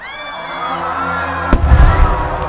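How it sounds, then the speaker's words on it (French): A rising whistle of fireworks gives way to a loud bang, then crackling firecracker bursts that rumble on, close and loud. "une explosion peut être aussi belle, festive, voire magnifique, telle qu'un feu d'artifice coloré ou des pétards"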